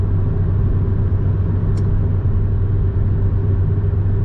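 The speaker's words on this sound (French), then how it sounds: "Quelques petits bruits de roulement, mais c'est assez léger" Steady, loud low rumble of road and rolling noise inside a Ford Focus 2.0 16V Ghia five-door while driving. The drone stays even throughout with one tiny tick, and no one speaks.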